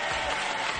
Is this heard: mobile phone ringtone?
no